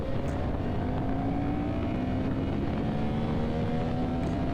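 Racing motorcycle engine screaming at high revs on the Circuit du Castellet track, a loud, close, continuous whine whose pitch climbs steadily with no talking.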